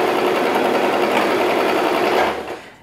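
Singer Tradition domestic sewing machine stitching in reverse, a steady fast whirring buzz of the motor and needle running close up for a couple of seconds before slowing and stopping.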